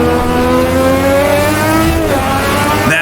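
A vintage Formula One car screams around Silverstone in Automobilista 2, its engine droning loud and steady with a sustained high whine that dips briefly as revs shift, then surges again near the end.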